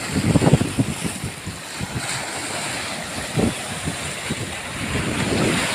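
Strong waves surge and crash against the side of a boat at sea off Burias in rough weather, with gusty wind buffeting the microphone in a continuous loud roar.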